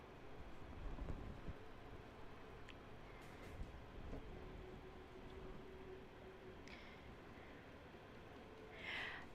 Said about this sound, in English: Yeah, it's raining really hard.